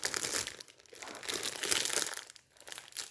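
Paper wrapping from a food subscription box being handled, crisp crinkling and rustling in uneven waves, close up and fairly quiet, with no voice.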